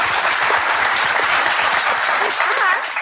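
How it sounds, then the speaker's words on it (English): A live talk-show audience at a social hour event answers a host's show of hands with steady, dense applause, loud and continuous for about three seconds with a few voices mixed in near the end. "By applause, how many people?"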